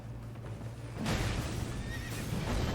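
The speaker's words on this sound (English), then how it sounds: "I never knew the horse could just run off like that." A horse whinnies loudly in the video game Elden Ring: Nightreign, then hooves pound away in a fast gallop, close and clear.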